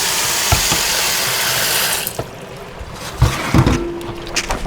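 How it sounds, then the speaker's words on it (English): Tap water runs through a strainer, rinsing dried beans for ham and bean soup in a kitchen. A steady rushing flow fades partway through, broken by a few clattering knocks and thumps, with no talking. "when you start to see the water run clear through the strainer"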